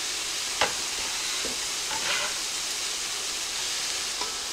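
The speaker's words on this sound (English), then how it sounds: "we're gonna saute this down for 3 minutes until everything is nice and soft" Diced mushroom stems sautéing in a pan, with a continuous soft sizzle and hiss broken by a few brief stirring scrapes and clicks, fairly quiet and close.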